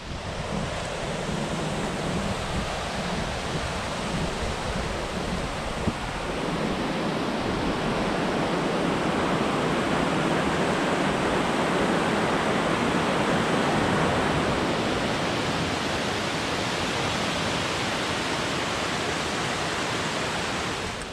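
The Rio Espiritu Santo waterfall in Rio Grande, Puerto Rico roars as a loud, constant broadband rush of falling water, steady and close throughout, with no voices.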